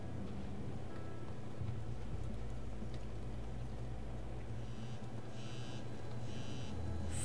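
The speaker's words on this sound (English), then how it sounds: "Phone buzzes." Phone buzzing in Life is Strange: Double Exposure, three short, evenly spaced buzzes over a steady rain-like ambient bed, fairly faint.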